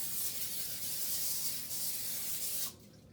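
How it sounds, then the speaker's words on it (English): Cooking spray hisses in one continuous close burst onto a foil-lined baking sheet for a few seconds, then stops abruptly. "We're going to put a layer of cooking spray onto that."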